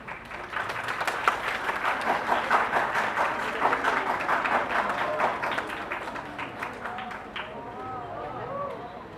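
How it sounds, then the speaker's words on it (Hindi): An audience at a college play applauds to welcome a guest, a dense, even patter of many hands clapping for several seconds that thins out toward the end. "तो आइए जोरदार तालियों के साथ स्वागत करें"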